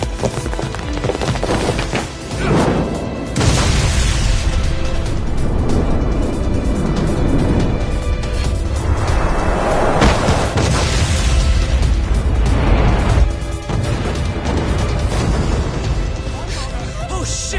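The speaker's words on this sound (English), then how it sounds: "This ship just exploded!" In the Lost Judgment video game, a ship explodes with loud, heavy booms and rumbling blasts, followed by continuous dense crashing and roaring debris noise that lasts throughout.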